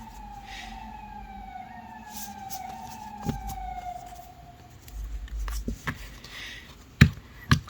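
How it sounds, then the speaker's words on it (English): A siren wails steadily in the distance, its tone sliding up and down, while a few sharp knocks and handling sounds of a tarot deck being shuffled occur nearby. "not knowing why they suddenly decided sirens was a good time right now"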